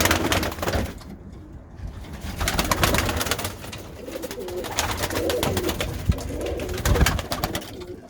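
Pigeons coo in low, throaty bursts throughout, close by, with flapping and rustling in an echoey enclosed pigeon loft.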